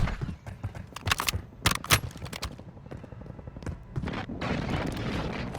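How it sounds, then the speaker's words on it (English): Airstrike explosions in Call of Duty Warzone on Verdansk: a rapid string of heavy booms and sharp blasts up front, followed by rumbling debris and a roaring wash of noise toward the end. "Friendly airstrike in the AO."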